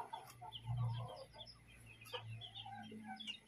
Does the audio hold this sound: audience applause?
no